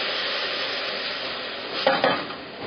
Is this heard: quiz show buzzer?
no